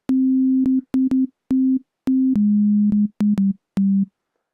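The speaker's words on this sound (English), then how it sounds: "So all that is a sine wave at standard octave level" A pure, steady synthesized sine wave tone plays in a series of short on-off pulses of uneven length, shifting slightly lower in pitch partway through, with clicks at each cut.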